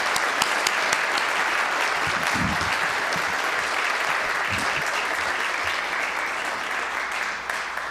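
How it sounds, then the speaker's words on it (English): A theater audience at a Black History Month music program claps in sustained, even applause throughout, a dense wash of hands that fades only slightly at the end. "Let's give them another round of applause."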